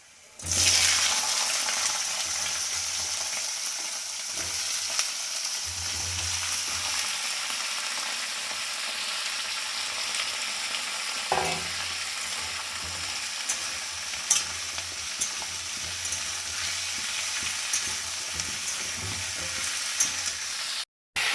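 Chopped spinach and vegetables fry in oil tempered with five spices, producing a soft, continuous sizzle with occasional knocks and scrapes of stirring. It runs steadily for about twenty seconds without speech.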